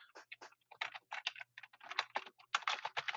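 Computer keyboard typing while entering a running head in a paper, a quick run of close, crisp key clicks in irregular bursts, with no talking.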